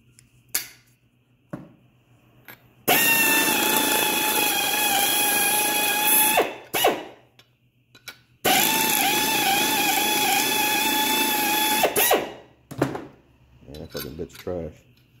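A power drill whines loudly in two long bursts of about four seconds each, separated by brief pauses and clicking handling noises, while drilling parts for a motorcycle swing arm modification.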